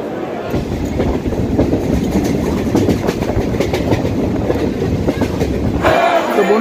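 A Namkhana local train at Sealdah South station rumbles and clatters loudly with rhythmic wheel clicks, then the noise abruptly thins near the end.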